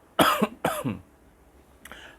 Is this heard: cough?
yes